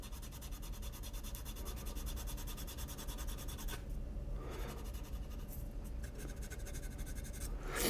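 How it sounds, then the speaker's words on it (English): Steady fine scraping of a fine sanding stick rubbing back and forth over putty on a 1/48 ICM Hampden scale model, continuous and close, with a brief lighter pause partway through. "how much putty is left as I'm sanding this"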